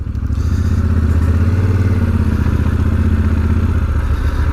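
A 2017 Yamaha XT1200Z Super Tenere motorcycle rides on a dirt track, its engine a loud, steady low drone close by, with constant clatter and rumble.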